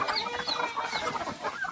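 Several chickens cluck continuously nearby, a dense overlapping chorus of short calls with no talking.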